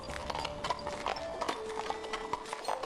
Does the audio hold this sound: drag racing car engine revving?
no